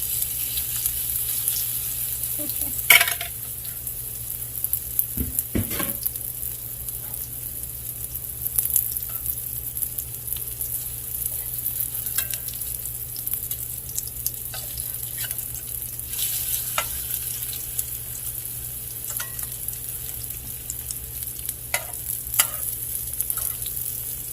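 Onion fritters frying in hot grease, a continuous soft sizzle with occasional utensil knocks and scrapes, close and moderately quiet.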